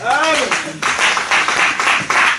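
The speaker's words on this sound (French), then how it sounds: "Applaudissez pour la parole" A church congregation claps and applauds in a series of quick rhythmic bursts, following a brief moment of a voice at the start.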